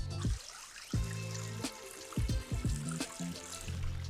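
Carpathian mountain spring water trickles and splashes as a bottle is filled outdoors, a close, uneven dribble with intermittent gurgles and bursts of pouring, no voices present.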